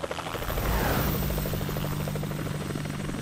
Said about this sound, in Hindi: अच्छा, वो मेरा हेलीकॉप्टर है